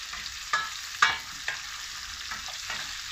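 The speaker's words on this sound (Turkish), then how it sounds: "Tekrar pırasalarımız, havuçlarımız, soğanlarımızı hepsini beraber kavuralım." Leeks, carrots and onions sizzle softly in a pot while a utensil scrapes and stirs, with a few sharp clinks at intervals.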